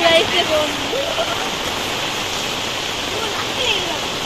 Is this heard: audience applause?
no